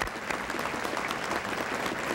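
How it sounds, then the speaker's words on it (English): A crowd at a 1978 appreciation dinner claps steadily throughout, a fairly soft, even wash of applause with no speech over it. "Let's give all these people a round of applause."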